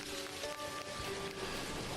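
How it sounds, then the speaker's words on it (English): Rain in the video game Dinkum falls as a soft, steady patter, quiet and continuous, with a few faint tonal notes from the game in the background. "It's raining."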